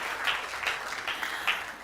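Applause from the audience at a TEDx event at Nile University of Nigeria, a brief, fairly distant wash of clapping hands with no voices standing out.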